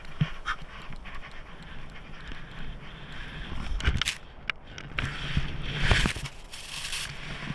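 A dog pants steadily outdoors on a snowy ski trip, quick rhythmic breaths close by with scattered clicks and rustles, no talking over it.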